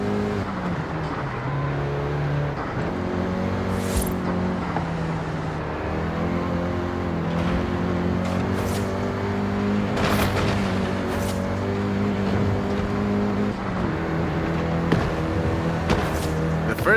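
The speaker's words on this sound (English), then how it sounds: "including the Golf GTI you're driving right now" A Volkswagen Golf GTI drives in Forza Horizon 5, its engine droning steadily with rising and falling tones through gear changes, with occasional sharp thumps and no speech.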